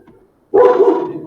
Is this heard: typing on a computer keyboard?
no